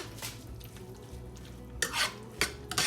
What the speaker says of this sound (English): Stir that up real quick.